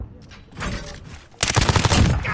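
Gunfire in Call of Duty Modern Warfare, scattered shots and a loud rapid automatic burst in the second half, close and dense, with no speech.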